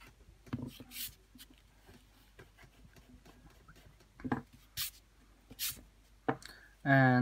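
Pencil lines being rubbed out on drawing paper with an eraser during an anime face sketch, giving short, soft scrubbing bursts that come and go between quiet stretches, close to the mic, ending in a louder rustle.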